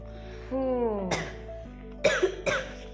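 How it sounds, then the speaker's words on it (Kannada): A person coughs after breathing steam from a hot herbal kashaya decoction: a brief vocal sound, then three harsh, close coughs in quick succession, the last two near each other, in a quiet indoor room. "ಕೆಮ್ಮು ಬಂದ್ಬಿಡ್ತ."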